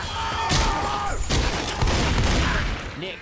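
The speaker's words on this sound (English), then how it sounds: "I know that was you shooting me." Gunfire in the co-op zombie shooter Left 4 Dead 2: a dense, loud fusillade of overlapping shots with booming thumps, continuous throughout with brief dips.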